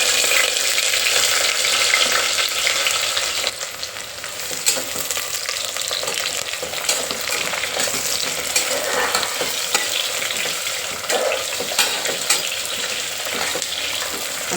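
Chopped onion sizzles steadily in hot oil with a bay leaf for chicken pulao, a loud, even frying hiss that runs unbroken throughout with no voices.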